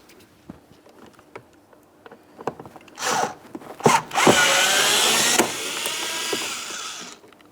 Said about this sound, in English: Now deep in this area, you're going to find a T20 torque screw. Go ahead and remove that.